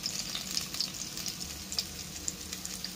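Squid and glass noodles sotanghon sizzling and frying in a pan, a steady close crackle with scattered bright pops throughout, no talking.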